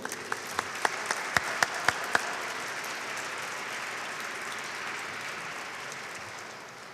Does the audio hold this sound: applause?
yes